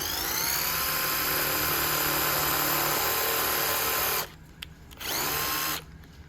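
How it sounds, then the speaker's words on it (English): A power drill with a 3/8 bit whines steadily at high speed for several seconds, drilling through a mounting panel on a Lexus GX, then stops, briefly restarts, and cuts out again; close and loud, no talking. "we'll take a 3/8 drill bit and we'll drill directly through the existing holes"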